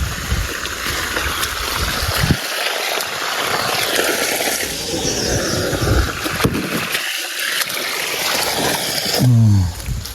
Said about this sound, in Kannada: ಸಿಕ್ಕಾಪಟ್ಟೆ ಹೋಗಪ್ಪ ನೀರು